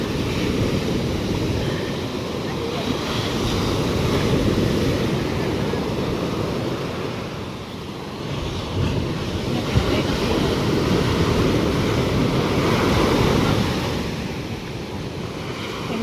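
Strong sea waves break in a continuous heavy roar of surf, loud and close, with gusty wind buffeting the microphone throughout.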